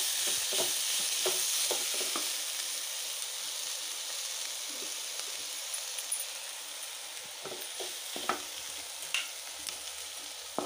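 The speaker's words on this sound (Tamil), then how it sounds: "நல்லா மிக்ஸ் பண்ணிக்கலாம்" Roasted peanut powder being stirred into a simmering eggplant curry, with a steady sizzling hiss and scattered scraping clicks of the spoon against the pan, close and continuous throughout.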